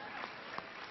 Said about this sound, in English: You're applauding.